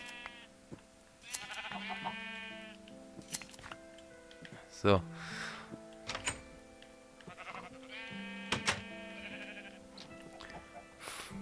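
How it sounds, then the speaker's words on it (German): Sheep in the Minecraft video game bleat in several short wavering calls spread across the clip, mixed with game clicks and ticking sounds, while a person speaks briefly over them. "Ich muss rote Sch ich muss unsere roten Schafe scheren."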